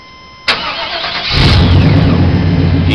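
A truck engine cranks briefly, catches, and settles into a loud, rough idle that continues close by, with no one talking.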